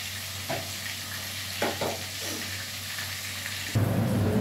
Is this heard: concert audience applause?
no